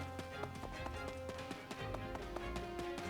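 Horse hooves clip-clop in the video game Fire Emblem Warriors: Three Hopes, a steady run of near, crisp taps over background game music.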